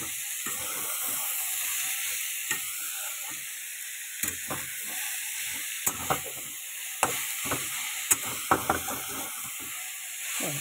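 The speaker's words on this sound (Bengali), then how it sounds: "একটুখানি নাড়িয়ে দিয়ে ঢেকে দেবো, তাহলে তাড়াতাড়ি করে সেদ্ধটা হয়ে যাবে।" Vegetable curry with green chillies cooks in a pan under a steady soft sizzle and hiss, with scattered sharp clicks of a utensil stirring against the metal, close and without speech.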